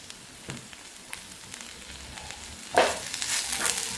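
A spiced mixture sautés in a pan, giving a soft sizzle and scattered stirring scrapes, with a louder burst of frying near the end. It stays fairly quiet throughout, with no voices.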